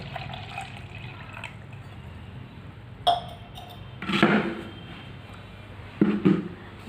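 Warm water is poured from a vessel into a lota in short splashing bursts, three brief gurgling pours standing out over a quiet background.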